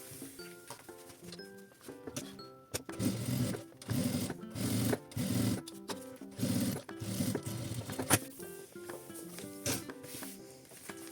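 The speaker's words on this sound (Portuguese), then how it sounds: "Rebato o corano e o meu forro para um lado e passo um pesponto na parte de cima" A sewing machine runs in bursts of rapid stitching, topstitching through faux leather layered with lining, with short pauses between runs and soft instrumental music playing underneath.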